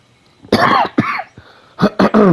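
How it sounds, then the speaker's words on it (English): Several harsh coughs from one person close to the microphone, two quick bursts, a pause, then a tight cluster of three. "I'll try to edit out as many of my coughs as I can"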